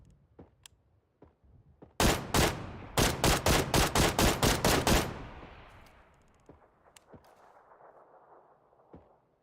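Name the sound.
gunfire in the video game PUBG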